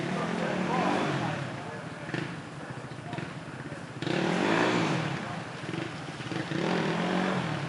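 A motorcycle engine keeps running while the bike sits stuck in deep mud at a muddy off-road event at Devil's Creek, a steady loud rumble with surges and revs under people talking nearby.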